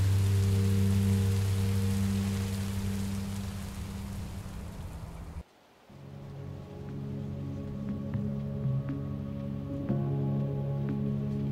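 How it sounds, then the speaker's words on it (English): Steady rain in the Minecraft Story Mode video game, a dense hiss that drops out briefly midway and then returns with low droning game ambience. "Rain is better than monsters."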